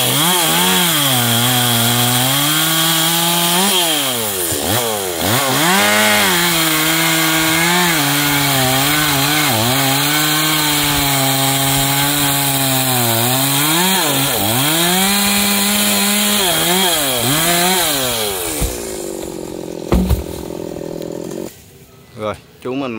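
A G4200 chainsaw cuts a golden wattle tree into sections, its loud engine whining steadily and rising and falling in repeated revs as the bar bites, then cutting out near the end, leaving a few brief knocks.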